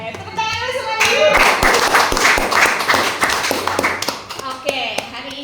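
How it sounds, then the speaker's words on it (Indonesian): A small audience claps along on an informal talk-show set, starting with a few sharp individual claps that build into a brief burst of close applause before tapering off, with a host talking before and after. "Tepuk tangan dulu semuanya."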